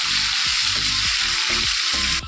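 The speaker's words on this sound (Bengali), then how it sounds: "চিকেনটাকে একটু ভেজে নেব" Chicken pieces frying in a pan, a loud continuous sizzle with low bumps and knocks of the pieces being moved about, cutting off abruptly at the end.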